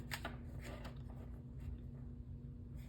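Quiet riffling and soft slaps of a small tarot card deck being shuffled by hand at close range, a few brisk bursts over a low steady hum.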